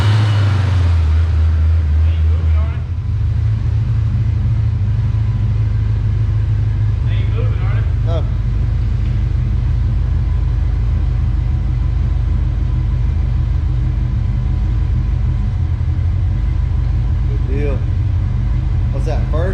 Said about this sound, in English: He's gonna go through the gears